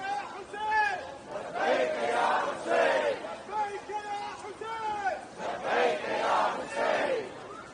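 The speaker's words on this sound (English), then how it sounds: "Please welcome him with a loud salawat." A large crowd at an Ashura demonstration in Vancouver, Canada loudly recites salawat together in rhythmic, melodic bursts, voices rising and falling in unison across several phrases.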